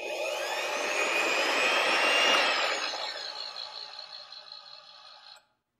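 An Ultima Autogrind tungsten electrode grinder starts up with a loud rising whine that peaks, then settles into a steadier motor hum before cutting off, heard alone at close range.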